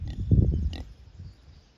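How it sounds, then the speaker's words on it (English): A pig lets out a quick burst of close, low grunts, then one or two fainter, softer grunts as it settles, with no talking over it. "Let's get you with the other pigs."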